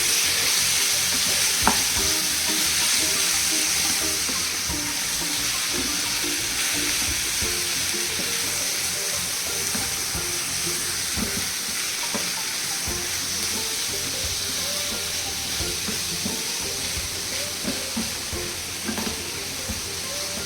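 Chicken frying in a pan for garlic chicken roast, a continuous close sizzle with scattered clinks and scrapes as the pieces are stirred.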